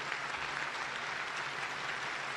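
Warm applause from a large dinner audience at the White House Correspondents' Dinner, a soft, continuous patter of many hands heard from some distance, steady throughout.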